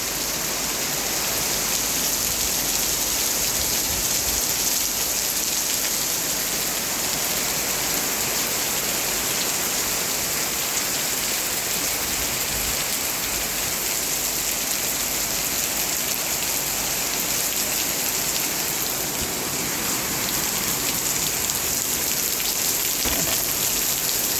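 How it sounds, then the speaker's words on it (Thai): Steady, heavy rain pouring down continuously, a dense hiss of drops hitting surfaces with no pauses and no voices. "ฝนตกพอดีค่ะ"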